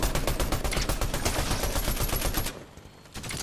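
Rapid automatic gunfire from an automatic turret in the video game Fortnite rattles in a loud, dense burst for a few seconds, then cuts out briefly before firing resumes near the end.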